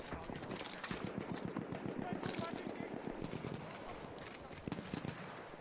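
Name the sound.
gunshots in the video game Battlefield 1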